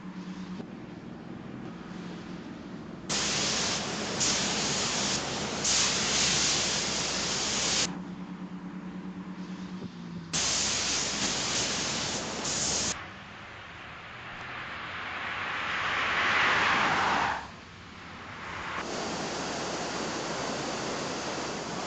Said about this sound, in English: Experience and artistic craftsmanship with the spray gun are needed for the final coats.